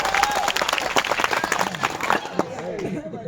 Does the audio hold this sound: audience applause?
yes